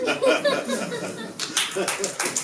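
Brief clapping from the audience at a seed dissemination agricultural conference in a Nairobi hotel, mixed with chuckles and voices, with the claps growing sharper and more scattered near the end.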